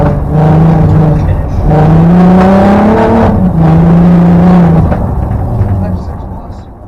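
A rally car at SNO*DRIFT, a snow rally, runs at high speed with a sustained loud engine drone that rises and falls in pitch, close up, then fades slightly at the end.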